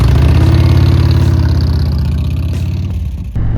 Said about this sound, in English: We're going to hop on the bike, go for a ride, and get to it.